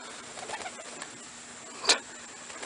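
Roller pigeons outdoors give one short, sharp bird call at mid-clip against a faint, quiet background, with little else heard.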